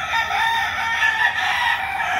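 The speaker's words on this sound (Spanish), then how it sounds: "Una belleza de gallo, Dios lo bendiga." Rooster crowing nearby, a sustained loud strained call held steady for a couple of seconds over faint background sound.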